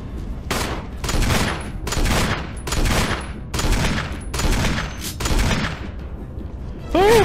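Loud, sustained bursts of gunfire in the Resident Evil HD game, several rapid volleys separated by brief pauses, ending with a higher-pitched sound effect.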